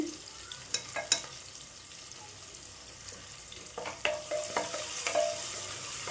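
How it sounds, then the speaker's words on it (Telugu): Onions with curry leaves and fresh ginger-garlic paste frying in a pan for a bottle gourd curry, a soft close sizzle under intermittent light clinks and stirring scrapes, fairly quiet overall. "ఇవి మంచిగా వేగాలి ఆనియన్స్"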